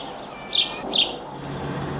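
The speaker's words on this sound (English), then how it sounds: "Birds cheep." Two short, high bird chirps sound a moment apart over a steady soft hiss.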